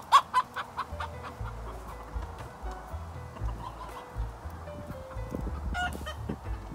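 Backyard chickens cluck in repeated short bursts close by, with clucks and squawks overlapping irregularly across the whole stretch.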